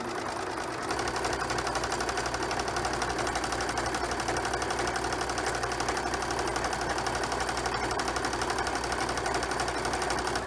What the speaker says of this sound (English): I have chosen to do a triple stitch as I'm sewing down, which will just give it an extra hold